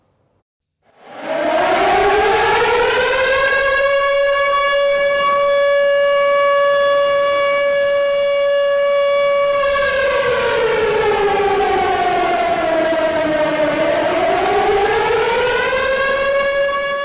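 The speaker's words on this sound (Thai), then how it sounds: "นี่ครับเป็นเสียงไซเรนนะครับที่เตือนว่ายูเครนอยู่ระหว่างการถูกโจมตีทางอากาศยาวทั้งหมด20วินาทีนะ" A Ukrainian air raid warning siren starts after about a second and holds a loud, steady wailing tone. It then falls and rises again in a slow sweep, with no talk over it.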